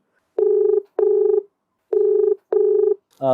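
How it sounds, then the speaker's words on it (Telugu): Push-button telephone dialing: four distinct DTMF keypad tones in an uneven rhythm, each a steady clear beep about half a second long, close and alone, with a brief ringback or voice onset at the very end. "కాల్ చేస్తాను."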